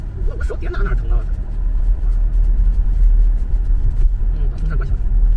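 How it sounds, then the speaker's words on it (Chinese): A car's ventilation fan blows with a steady low rumbling roar inside the cabin, continuous beneath people talking. "把风扇关小，轰轰的，"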